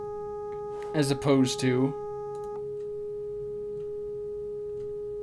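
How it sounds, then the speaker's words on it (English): A steady test tone carrying clipping distortion with an added third harmonic hums continuously and evenly, while someone speaks briefly over its start. "you can hear how easily higher order harmonics affect the sound."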